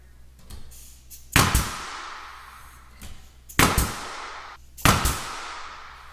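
A nail gun drives longer nails into the top of range hood chimney trim with crown molding, three sharp loud shots spaced about two seconds apart, each followed by a short ringing decay.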